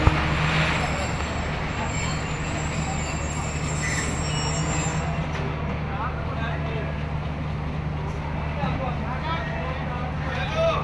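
The 46DN Pakistan Express pulls into Wazirabad Junction, a loud steady rumble of railway cars with a low engine hum and faint wheel squeal, under constant station crowd noise.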